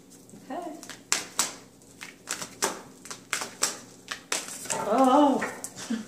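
Cards are shuffled in a series of sharp, snappy riffles at a steady pace, close by, with a brief murmur of voice near the end.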